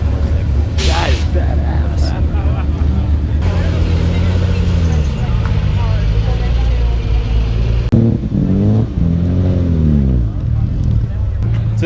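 A car with a Honda B16A engine idles and revs at a Cars & Coffee meet, loud rising and falling engine tones close by, with people talking over it throughout.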